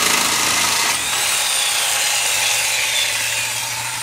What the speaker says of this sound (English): Push the sawzall against the pipe a little bit.